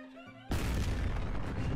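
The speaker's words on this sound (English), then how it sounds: "That explosion." An explosion from a self-destruct in the anime 86 Eighty-Six bursts in suddenly after a quiet musical passage and becomes a loud, sustained rumbling roar that continues to the end.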